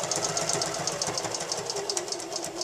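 A sewing machine stitches down bias tape in the ditch of a seam, giving a steady, close, rhythmic whir of rapid needle strokes with no pauses.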